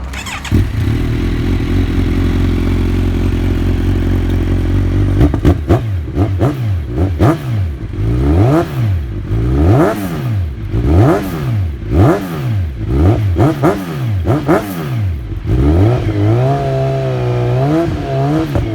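A Kawasaki Z1000 fitted with an Akrapovic titanium full exhaust system idles with a deep steady burble, then revs repeatedly in sharp rising and falling bursts, loud and close, before settling back to idle.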